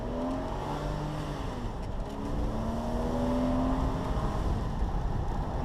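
A 2002 Porsche Boxster S with Tiptronic automatic transmission accelerates from inside the cabin, its engine note rising in pitch through successive gear changes, steady and moderately loud with no talk over it.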